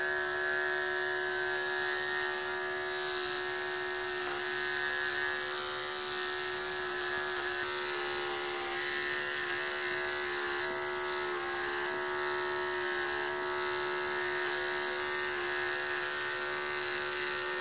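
Electric hair clippers buzz steadily while cutting hair during a fade, a thin, even electric hum with slight shifts in pressure, fairly quiet and close.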